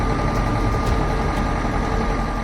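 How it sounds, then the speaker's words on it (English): A tractor stuck in muddy ground, with wooden logs chained to its tires, runs its engine in a loud, steady, close low rumble and drone throughout, with no talk. "Unsticking a tractor."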